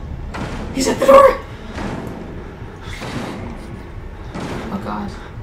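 Banging on a door in the horror video game Outlast, a few heavy spaced thuds with a louder knock near the start, mixed with speech.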